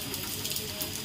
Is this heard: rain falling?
yes